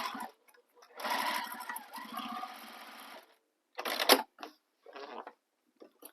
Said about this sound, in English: But you want to sew all the way around the entire bag.